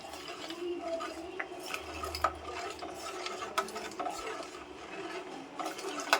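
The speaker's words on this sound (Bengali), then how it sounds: "এরকম ভাবে আস্তে আস্তে নাড়তে থাকবো আর জলটা দিতে থাকবো।" Milk being slowly stirred in a pot while water is gradually added to make chhana, with a steady, even swishing and light scraping of a spoon and a soft liquid wash underneath.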